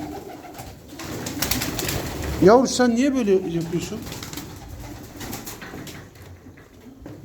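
A Hünkari pigeon coos close by in a short rolling burst midway through, while someone talks softly over and around it.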